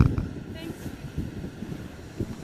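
Strong wind buffets the microphone at a freestyle windsurfing contest in Fuerteventura, a steady gusty roar and rumble throughout, with a voice talking over it.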